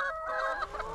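Chickens on a farm give a short burst of loud, close clucking with a hen's squawking call, heard alone.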